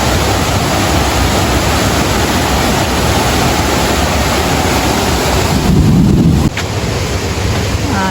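Third tier of the Chet Sao Noi waterfall at Muak Lek, Saraburi: steady, loud broadband rush of falling water filling the whole stretch, with wind buffeting the microphone and a brief low rumble just before a drop near the end.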